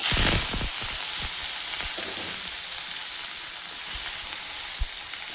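Brinjal and onion pieces frying in oil with cumin seeds make a loud, steady sizzle throughout, with scattered pops and scraping stirs near the start and one sharp knock toward the end.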